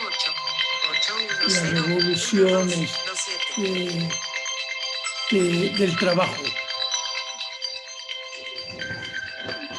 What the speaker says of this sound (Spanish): hay un ruido ahí, un celular